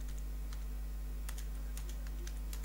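Quick, light taps on a computer keyboard, a scattered run of soft key clicks heard close but faint over a steady low electrical hum.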